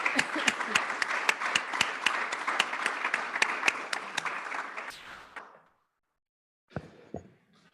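Scattered applause from a modest audience at a school district governing board meeting, distinct claps in a steady rhythm that fade out after about five seconds, followed by silence and a couple of sharp knocks or thumps.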